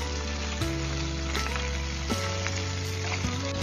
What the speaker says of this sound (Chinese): 把鸡腿肉给它夹放在锅里面去煎。 刚下锅时鸡皮朝下